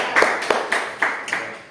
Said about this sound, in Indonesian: Kita berikan aplaus untuk penyampaian dari kelompok 2.